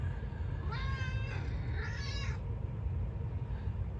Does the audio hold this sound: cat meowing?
yes